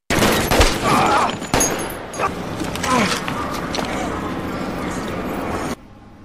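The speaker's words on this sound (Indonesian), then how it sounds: "Polisi dan FBI akhirnya mengepung dan menembaknya hingga tewas." Police gunfire from the film The Town erupts as a loud, dense volley of shots and impacts, sharp bursts stacking over a roaring action-scene mix for several seconds before cutting off abruptly.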